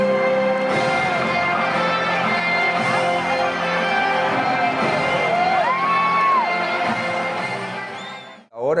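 A large stadium crowd of Corinthians football fans in Tokyo cheers and shouts, a dense, steady roar with whoops and a few rising yells, loud and sustained until it cuts off near the end.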